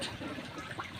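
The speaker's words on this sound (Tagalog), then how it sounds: "lakas ng agos" Strong floodwater current rushing during Typhoon Enteng in Capiz, a steady churning wash of water heard close and continuous for about a second.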